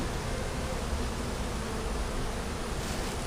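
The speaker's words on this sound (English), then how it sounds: "This is his first time actually messing with the bees." Honey bees hum in a steady, dense buzz around an open hive during a small swarm capture, a constant close drone with no breaks or voices.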